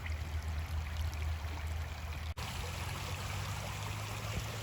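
Water in an Indiana creek flows with a soft, steady trickle and gurgle. It is faint and continuous, with a brief dropout partway through.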